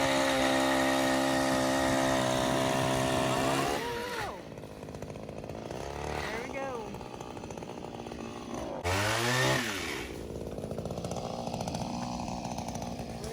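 A motorized pole saw whines loudly at high revs, then bogs and revs in bursts as it cuts through pecan tree branches, with no voices.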